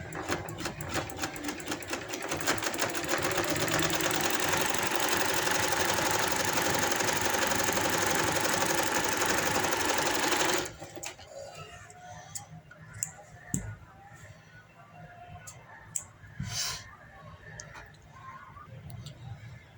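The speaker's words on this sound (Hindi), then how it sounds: "अब इसे मैं एंड तक सिलाई लगा देती हूँ।" A sewing machine runs steadily for about ten seconds, stitching the side seam of a salwar trouser, then stops, leaving quiet handling clicks and faint room noise; close and fairly loud.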